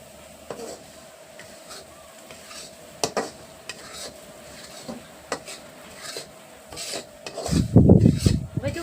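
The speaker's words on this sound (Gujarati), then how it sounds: "નાખી દીધો છે આપણે રવો કઢાઈમાં. અને હવે આપણે આમ હલાવશું" Semolina roasting in ghee in a kadhai is stirred with a spoon, making intermittent scraping rasps against the pan that grow into a louder, rougher burst of scraping near the end, with no voices.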